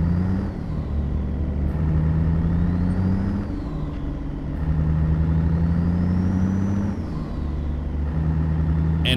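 A heavy truck engine in American Truck Simulator revs up through its gears, steady loud drone rising in pitch with each gear and dropping at every shift, several shifts in sequence with no talk.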